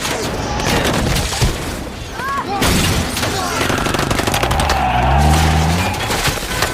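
Rapid bursts of action-film gunfire at a car crack and boom amid chaotic impacts and debris, with a voice shouting over the loud, dense barrage.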